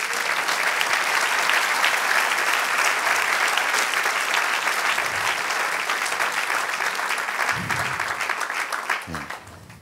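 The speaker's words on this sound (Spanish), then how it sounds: "Denle otro aplauso al Señor." Church congregation giving loud sustained applause, dense clapping filling nearly ten seconds before cutting off, with scattered voices and low thumps near the end.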